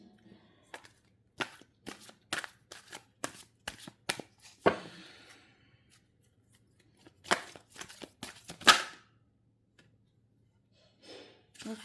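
A deck of cards is riffled and shuffled in a quiet room, giving a series of short crisp bursts with pauses between, and a longer flurry near the middle.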